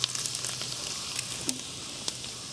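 Dried red chillies sizzle in hot oil in a pan, a steady close fry with a few sharper crackles and pops, no talking over it.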